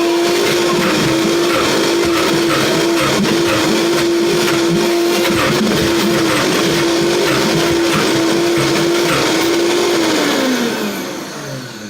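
A powerful Vitamix blender mixing vegetables roars continuously and loudly for about ten seconds with a steady motor whine, then winds down at the end.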